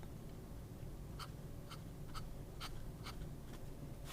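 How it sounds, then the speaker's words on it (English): A Sailor King of Pen fountain pen with a wet, broad nib writes on paper, giving soft, slightly chalky scratching strokes in short separate bursts over a steady background hiss. "there's a hint of chalky feedback, which of course is unique to the King of Pen or to Sailor nibs in general."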